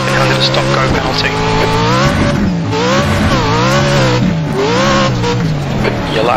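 A race truck engine in a VR truck racing game roars loudly and continuously, its pitch rising and falling as it revs and shifts throughout.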